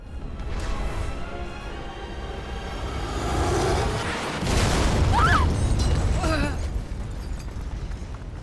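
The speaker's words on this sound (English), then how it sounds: "Even this explosion sounds amazing." An explosion in the PS5 game Stellar Blade: a deep rumbling boom swells and rolls, with crackling debris and whooshing effects layered over a low, heavy roar.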